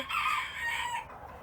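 Chickens and a rooster inside a coop, with crowing and clucking that run steadily for about a second before fading out. The calls are fairly close and stand alone, with no talk over them.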